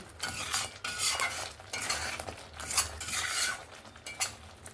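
Ground chilli masala for a chicken curry being stirred and fried in a pan, a spoon scraping and clinking against the metal in steady repeated strokes over a soft sizzle, close and moderately loud, no talking.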